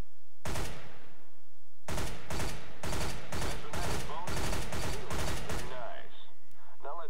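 Gunfire from the Counter-Strike: Global Offensive weapon course rings out at a target: about nine loud, evenly spaced single shots in quick succession, then a brief quieter tail.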